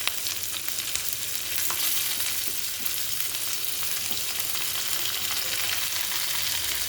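Chopped onion and curry leaves sizzle in hot oil in a pan, a bright continuous frying hiss with occasional crackles and stirring, steady and close with no voices.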